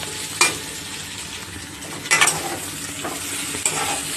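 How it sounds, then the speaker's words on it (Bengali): Soybean chunks and potato frying in a pan in a home kitchen, a steady close sizzle with a few sharp stirring scrapes and clinks, no talking. "সোয়াবিন দিয়ে আলু দিয়ে রান্না করছি।"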